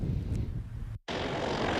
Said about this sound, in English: As planes land and take off from Palatka Municipal Airport